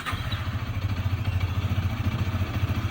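A motorcycle engine idles just after an oil change, close and steady, with a rapid even low-pitched putter and light mechanical clatter, no talking.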